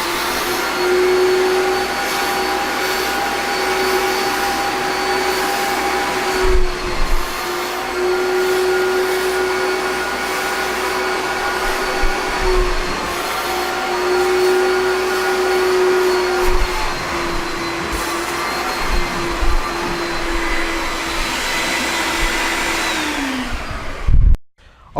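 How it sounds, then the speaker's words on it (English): A carpet extraction machine runs steadily, drawing spotting solution back out of carpet during fruit drink stain removal, a loud continuous motor whine and suction roar that holds for about twenty-four seconds before cutting off abruptly at the end. "we're going to extract this again just to make sure that we've got all of the spotting solution that we tried first completely out of the carpet"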